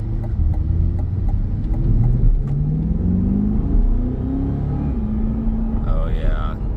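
A 2025 Chevrolet Corvette E-Ray 3LZ accelerates gently, its engine rumbling with rising pitch under light throttle, heard from inside the cabin, steady and fairly loud, with a voice briefly speaking near the end.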